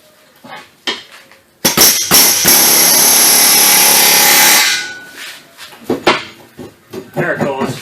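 Hammer blows drive a chisel into the tight pinch joint of a 2013-2017 Ford Escape lower control arm: sharp metallic strikes, then a long loud grinding burst, then more scattered hits, close up with some talk.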